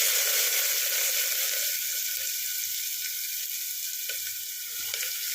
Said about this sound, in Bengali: এরপর আমি এতে পেঁয়াজ কুচি কুচি করে রেখেছি